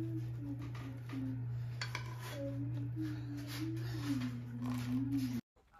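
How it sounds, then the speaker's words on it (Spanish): A whisk works quickly through pancake batter made with eggs and melted butter in a bowl, giving steady close clinking and scraping over a constant low hum, with no pauses. "Pues empezamos a batir bien."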